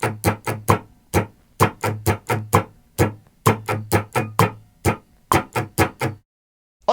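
A guitar strummed in a steady pattern of mostly downstrokes with a few upstrokes, played along to a click: a string of crisp, evenly timed strums, loud and close, with no talking and a short pause near the end.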